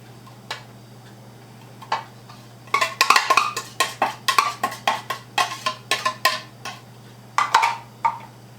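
A utensil taps and scrapes in a bowl as an egg mixture for quiche is stirred, a quick series of light, evenly spaced clinks over a faint steady hum, close and fairly soft, with no talking.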